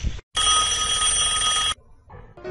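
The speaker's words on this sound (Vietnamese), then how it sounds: "Thôi, con có điện thoại này." A telephone bell rings loudly in one long continuous burst after a short sound, then cuts off, followed by quiet room noise, in a home scene from a cartoon.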